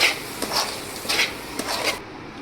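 Semolina and grated coconut mixture stirred in a pan for laddoos, heard as a few rhythmic scraping strokes of a spoon against the pan, close and fairly loud, ending abruptly.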